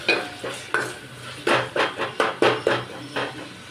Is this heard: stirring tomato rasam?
yes